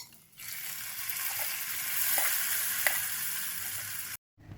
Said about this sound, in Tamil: இந்த தாளிப்பை நம்ம பொரியலில் சேர்த்துக்கலாம்.